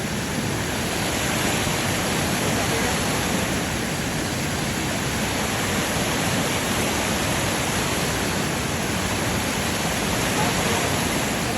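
Natsudan Falls pours in a steady, dense roar of rushing water, broadband and unbroken, heard close and loud with no talking.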